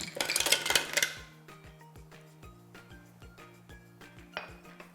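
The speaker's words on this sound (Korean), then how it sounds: "그리고 얼음을 넣어줍니다" Several hard clinks and rattles of ice cubes tumbling into a blender jar over orange and cooked carrot, loud at first, then scattered lighter clinks settling with a faint hum beneath.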